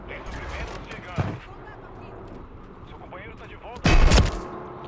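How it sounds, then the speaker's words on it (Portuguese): Gunfire in the Call of Duty video game, with a sharp shot and then a loud close burst near the end, set under a player's ongoing talk and game background noise. "Um tiro, velho."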